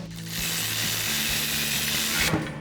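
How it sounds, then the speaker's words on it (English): A ratchet with a 15mm swivel socket and extension tightens bolts while installing a bed step on a RAM 2500 pickup, producing a fast, close clicking ratchet sound over a steady mechanical whir. "So now we'll grab our 15mm swivel socket and extension on our ratchet."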